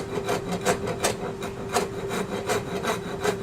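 A rasp files spinning wood on a lathe, held parallel to the lathe bed, giving a steady series of rhythmic rough scraping strokes about three per second over a constant motor hum, close and moderately loud.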